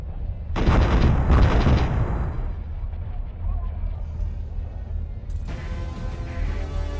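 Starship weapons in Starsector open fire in a dense, loud burst of rapid gunfire and booming shots near the start, then fade into a rumbling backdrop with a later electronic tone.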